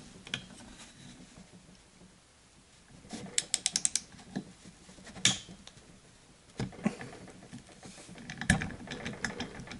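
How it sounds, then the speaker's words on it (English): A torque wrench tightens bolts on a Baja 5SC engine during a rebuild, with close, quiet ratcheting clicks and metallic ticks coming in short bursts over faint background noise, and no talking. "I'll finish it off with the torque wrench."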